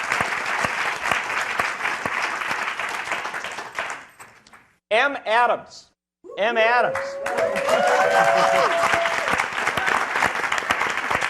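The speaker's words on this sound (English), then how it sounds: "You get the applause before you're even introduced." Audience applause at a political rally speech on Black life, a steady broadband clatter that breaks off briefly for a short spoken introduction, then swells back to full strength and keeps going.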